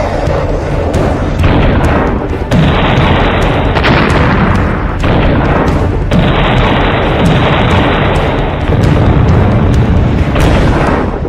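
A Russian missile strike on Odesa: loud, continuous roaring blasts and deep rumbling booms fill the scene, with several sudden bursts and surges, heavy and close throughout.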